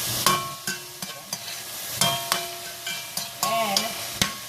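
Onions frying in a pan with a steady sizzle, repeatedly stirred so that sharp scrapes and clacks of a utensil on the pan break in every second or so; close and moderately loud, with no talking.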